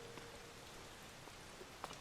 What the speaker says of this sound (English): I couldn't even see because all of this rain everywhere